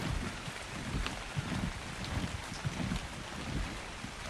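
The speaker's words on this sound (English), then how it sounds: "It's always raining." Rain in the survival game ARK: Survival Ascended on the Valguero map, a soft, steady wash of broadband patter and wind noise running throughout at a low level, with no talk.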